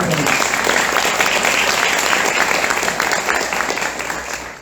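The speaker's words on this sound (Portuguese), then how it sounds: "Uma salva de palmas para o Hélio." A crowd claps in continuous, even applause that holds steady before tapering slightly at the end.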